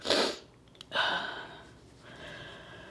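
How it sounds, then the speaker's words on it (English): A sharp close sneeze followed by a second burst and some breathy sniffing, with no talking. "I'm sorry, I have to sneeze."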